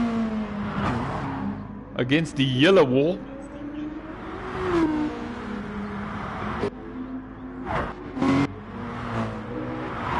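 Race cars in a PS4 racing game run close together, engines droning and revving through passes, with brief sharp bursts standing out, all under steady commentary from a nearby voice.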